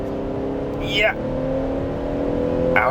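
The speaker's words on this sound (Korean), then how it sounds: "저속에서 추월 가속을 하거나 확 치고 나갈 때 지금처럼 이렇게" A Chevrolet Traverse SUV engine revs hard and strains under acceleration, a steady droning roar with a rising whine, heard from inside the vehicle.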